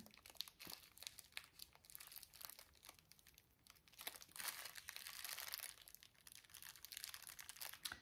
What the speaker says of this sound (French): J'aurais aimé ne pas déchirer le papier de soie